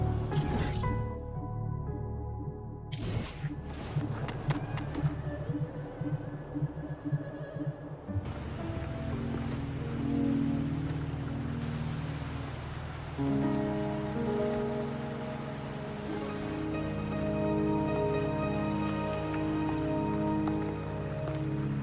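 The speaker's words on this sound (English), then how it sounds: "Are you trapped here by the rain?" In the game Wuthering Waves, rain patters steadily on surfaces beneath a soft, sustained musical backdrop, with a few brief sharp sounds early on before the downpour settles into a continuous hiss.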